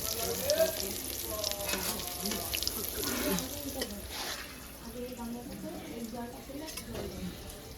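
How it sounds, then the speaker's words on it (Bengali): Pointed gourd and two pieces of home-grown white eggplant sizzle in a pan with occasional stirring, a moderate, steady crackle running beneath people talking nearby. "এখন পটল ভাজা, আবার একটু গাছের সাদা বেগুন 2 পিস দিয়েছি যে ভাজতে।"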